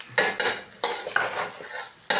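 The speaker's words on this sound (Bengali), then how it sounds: "নাড়তে থাকো।" A spoon scrapes and stirs biryani in a pot, close up, in about six loud, separate strokes with short pauses between them.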